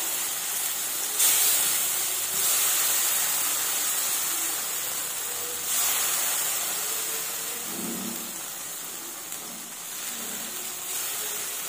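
Tomato and spice paste, blended for a vegetarian matar paneer, hisses and sizzles steadily in a hot pan, a continuous spitting noise with a few louder bursts and no speech.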